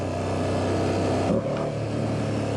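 A Yamaha R9 motorcycle riding past, heard as a steady, loud engine drone with a brief dip and shift partway through.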